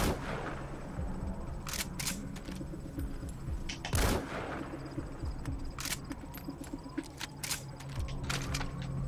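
Gunfire in the stealth action game Metal Gear Solid V: The Phantom Pain, scattered quiet shots and clicks over low game ambience, with one stronger report midway.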